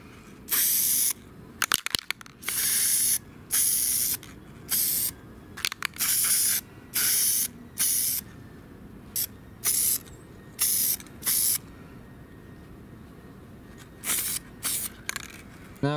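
Repeated short bursts of aerosol clear coat spraying onto a Logitech G Pro Wireless gaming mouse, a dozen or so hissing blasts with brief pauses between them, close and fairly loud with no voices.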